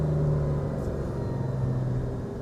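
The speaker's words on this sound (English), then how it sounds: "I hear the car." A Porsche 911 engine runs at a steady idle, a low continuous rumble heard close and alone throughout.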